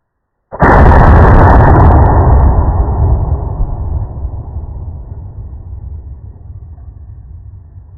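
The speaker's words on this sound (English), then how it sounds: "Dropping that big old bad boy in this gun. And shooting into this ballistic gelatin." A large-calibre lever-action rifle fires one loud shot into a block of ballistic gelatin, a sharp blast at the start followed by a long, booming rumble that slowly fades across the rest of the clip.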